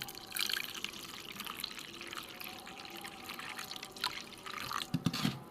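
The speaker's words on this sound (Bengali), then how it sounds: "এতে কিছুটা আমি জল দিয়ে দেবো" Water poured from a vessel onto cut green mangoes sitting in a bowl, a steady close splashing trickle that runs for several seconds and grows louder near the end.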